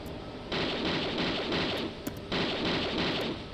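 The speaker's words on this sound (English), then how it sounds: "Shoot him, Laura." Gunfire in the video game Tomb Raider II comes in two dense sustained bursts of rapid loud shots, separated by a brief gap, close and dominant with no speech over it.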